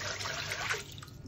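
Water trickles steadily into a pressure cooker with a large brick stone set inside, a soft continuous pour lasting about a second with no voices.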